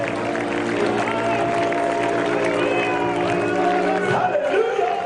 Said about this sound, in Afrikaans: Speel hande klap.